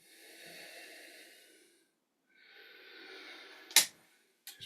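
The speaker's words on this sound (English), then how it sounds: "Just breathing in through the nose and out through the nose, listening to the breath." Two slow, soft breaths through the nose during a yoga session, each a long airy hiss with a pause between, close and quiet, followed by a sharp click and a brief rustle.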